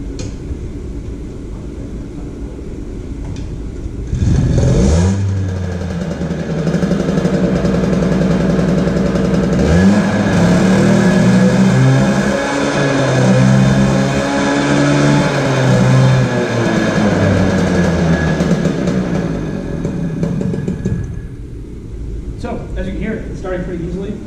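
A rebuilt Sachs 505 small two-stroke engine starts with a sudden burst, then runs and revs in rising and falling waves of buzzing tone before cutting off, close and fairly loud.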